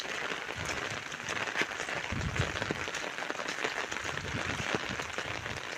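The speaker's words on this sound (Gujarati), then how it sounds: "સતત વરસાદ ચાલુ 2 દિવસથી, સતત બંધ જ નહીં" Steady rain falls on a village street after two days of nonstop downpour, a quiet continuous hiss and patter with scattered drops splashing nearby.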